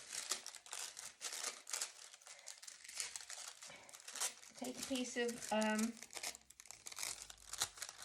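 Sheets of tracing paper rustle and crinkle up close during dressmaking pattern work, with crisp bursts of crackling paper heard alongside a person talking.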